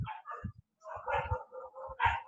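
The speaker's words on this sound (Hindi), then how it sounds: "तुम लोग को कुछ कुत्तों की आवाज आ रही है?" Dogs outside bark and snarl in a scuffle, a string of rough yelps and growling barks in uneven bursts at moderate distance, fairly clear and unobscured.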